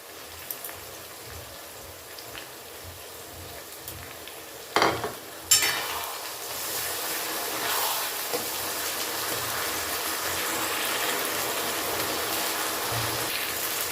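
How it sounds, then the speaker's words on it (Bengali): Spices added to golden-fried onions fry in a pan for Bengali mutton kosha with a steady sizzle, a couple of clattering stirs midway, then a louder continuous hiss. "পেঁয়াজটা গোল্ডেন করে ভাজা হয়ে গেছে, এবার এই সব মশলাগুলো দিয়ে দেবো।"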